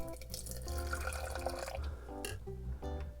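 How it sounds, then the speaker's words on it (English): Water poured from a container into a cup while making passion fruit green boba tea, gurgling glugs and splashes in short uneven spurts, close and clear without talk. "we need to put 2 ounces of the water into the cup."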